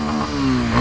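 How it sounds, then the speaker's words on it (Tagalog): A motorcycle engine revs loudly and close, holding a steady droning pitch that climbs slightly toward the end, with no talk over it. "patayin ko na yung motor"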